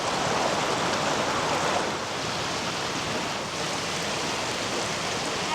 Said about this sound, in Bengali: একদম কিন্তু জল যাচ্ছে, ঠান্ডা জল, তার সাউন্ড